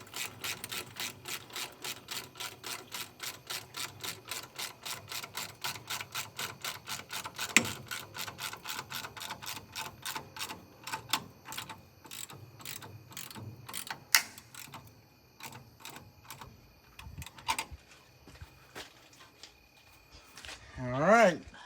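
A ratchet tightens a V-band clamp on a big turbo fitted to a semi truck, a rapid, even train of close clicks that slows into irregular turns and stops near the end.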